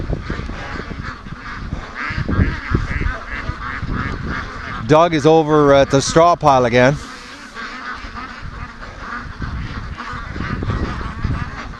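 Free-range geese honk in a loud, rasping burst near the middle, with duck calls and general farmyard noise around it, while someone talks over much of the scene.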